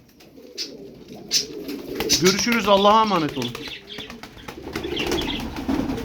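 Pigeons cooing and shuffling inside a carrying box that holds up to twelve birds, on a hot day, with a rising and falling coo over wing rustles and someone talking throughout.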